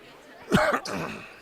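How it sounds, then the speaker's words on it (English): One short, close cough from someone with a bad cold, followed by a brief throat-clearing rasp, over faint room noise at a high school basketball game. "I'm trying not to cough, but every now and then you're going to hear one"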